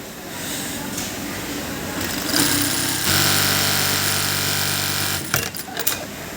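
A Brother HE 800A sewing machine stitches a zigzag buttonhole in a steady mechanical whir, with the motor rising to a louder, even buzz midway before briefly faltering near the end.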